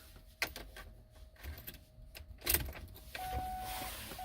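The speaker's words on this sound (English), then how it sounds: "now turn the key on" Ignition key of a Lincoln Navigator turned to the on position, giving a few sharp clicks and a jingle of keys, then a faint electrical whine and soft hum from the vehicle's systems, quiet and close.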